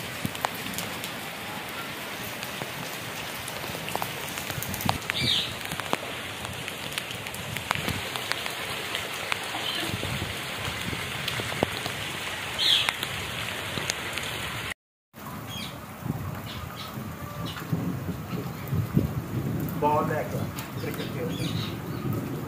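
Rain falls steadily outdoors during a mango party, a close, continuous patter with occasional bird calls and voices mixed in, briefly cutting out midway before resuming.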